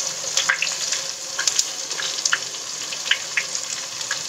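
Onions and curry leaves frying in oil for Nellore fish curry, a steady close sizzle with scattered sharp pops and crackles spread across the whole stretch, no talking.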